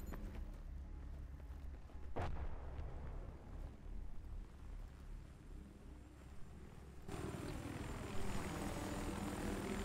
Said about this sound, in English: I pray that is our helicopter and not theirs.